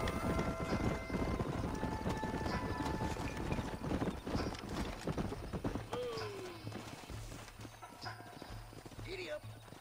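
Horse hooves gallop in the Western video game Red Dead Redemption, a loud continuous clip-clop over a dense rumble, with a brief whinny and people talking in the game as the pace eases near the end.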